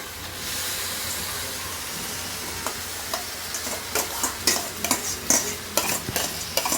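Bok choy pasta stirred in a hot pan, a bright hissing sizzle that grows busier as repeated scraping stir strokes come in quick succession toward the end, close and fairly loud.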